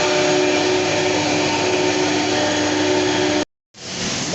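CNC machine running with a loaded program in a machine shop, a loud steady whirring hum with a constant pitch that cuts out abruptly near the end and then resumes.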